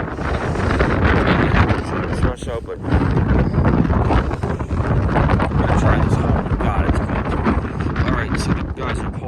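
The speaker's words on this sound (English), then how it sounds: "As you can see, it's really windy." Strong wind roars and gusts across the microphone aboard a 1994 Broward motor yacht at the dock in Charleston, a loud, continuous buffeting with brief dips, while someone talks briefly under it.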